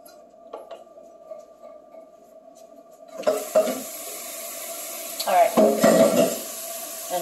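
Arroz con leche being stirred in a pot, a close, steady liquid swishing and bubbling that starts partway through and grows louder, with a few sharper scraping strokes.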